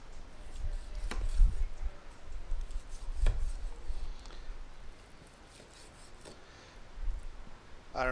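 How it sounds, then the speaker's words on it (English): A knife slicing through smoked pork ribs on a board, with several soft cutting strokes and dull thuds at irregular intervals, close and moderately quiet. "Let's go ahead and slice into these"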